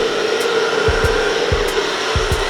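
Air blown steadily onto acrylic paint in a metallic Dutch pour, a constant close whooshing hiss with a few low thumps and soft bumps mixed in.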